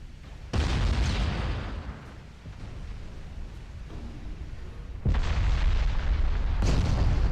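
Warship secondary guns fire in Ultimate Admiral Dreadnoughts, a naval video game, with heavy booms near the start and again toward the end over a continuous rumbling battle background, with no talk.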